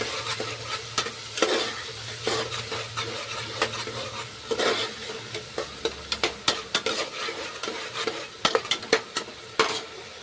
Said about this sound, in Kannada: ಟಮಾಟೆ ಹಾಕೊಂಡೀನಿ ರೀ ಮತ್ತು ಮೆಣಸಿಕಾಯಿ ಹಾಕ್ಕೊಂಡಿನಿ ಅಲ್ಲ ಬೆಳ್ಳುಳ್ಳಿ ಪೇಸ್ಟ್ ಹಾಕೊಂಡೀನಿ ಇರುತ್ತೆ ಚಂದ ಫ್ರೈ ಮಾಡ್ಕೊತೀನಿ